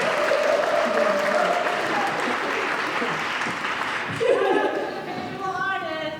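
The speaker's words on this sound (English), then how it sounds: "Can we get one massive round of applause for this afternoon?" An outdoor crowd at a Boston 250 launch event in Roxbury keeps up continuous applause and cheering, then a voice speaks over the fading clapping near the end.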